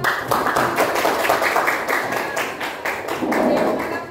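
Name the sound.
applause, clapping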